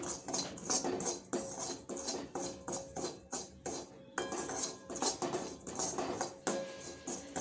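Semolina roasts in ghee in a pan while a metal spoon scrapes and clinks against it in a brisk, steady stirring rhythm, close and fairly loud.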